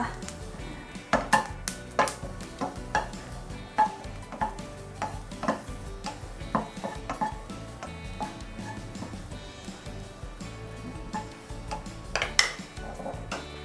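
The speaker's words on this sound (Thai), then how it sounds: "เราเอาไปคั่วนะคะให้พอสุก" Ingredients dry-roast in a pan on a gas stove while a utensil stirs them. Irregular metallic clinks and scrapes sound close up, with a faint background hiss.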